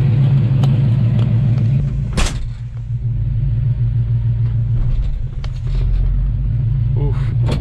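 A 1954 Ford F100 truck fitted with a Pontiac 400 engine, long unused, idling in gear with a steady low rumble, a brief sharp knock partway through and some faint clunks.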